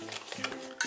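Fresh strawberries and sugar stirred together in a bowl for homemade strawberry syrup, a close, brief scraping and wet squelching with a sharper clink of the utensil at the end.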